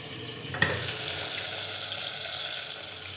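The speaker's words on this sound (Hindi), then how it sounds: "टमाटर डालने के बाद हम इसको ढक करके पका देंगे।" Tomatoes cook in a covered pan over high heat for a village-style tomato bharta. A continuous close hiss and sizzle follows a single brief knock near the start, with no one talking.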